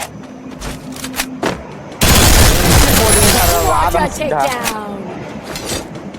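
Gunfire in a Free Fire solo match, a dense burst of shots erupting loudly after a quieter opening, with someone talking over the rapid firing and clinking effects.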